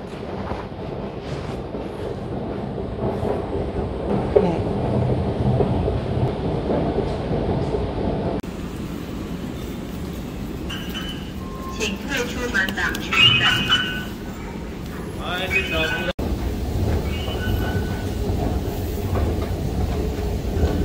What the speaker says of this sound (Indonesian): saya sudah ada di area MRT, teman-teman ya, mau naik MRT.